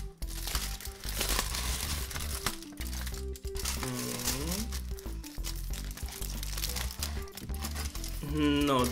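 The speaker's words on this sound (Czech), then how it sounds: "Jak vidíte, je zabalený do alobalu. Ještě teplej. A když si to takhle rozbalíme." Aluminium foil crinkles and rustles as a still-warm kebab from a Prague kebab shop is unwrapped, steady crackling close by with someone talking over it throughout.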